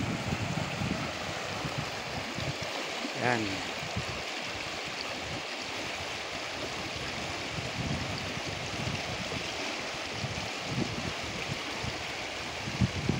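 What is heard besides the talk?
river stream flowing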